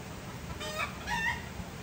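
Domestic chickens on a small Filipino goat farm give two short, moderately loud calls over a low outdoor rumble, sounding like brief clucks or a cut-off crow.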